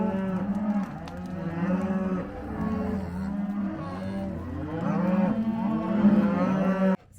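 Cattle with hoof problems moo repeatedly in a corral on a herd vaccination day, several long, deep overlapping calls sounding close and loud, one after another with almost no pause, and no talking.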